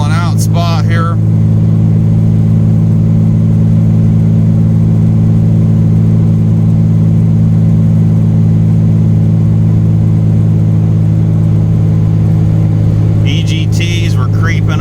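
A heavily loaded 2004 truck engine drones loud and steady as it pulls uphill at around 2,000 RPM, a constant close cabin rumble with brief talk at the start and end.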